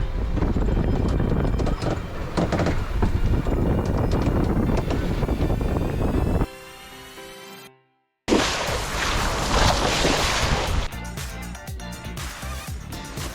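Wind buffeting the microphone aboard a sailboat out on a day sail, loud gusty roar for several seconds, a brief dropout, then strong rushing wind again.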